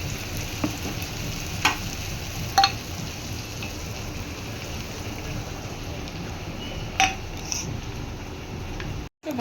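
Spices and mince meat sautéing in a pan for a home-style Bengali curry: steady sizzling and frying hiss with occasional sharp scrapes and clinks of a stirring utensil.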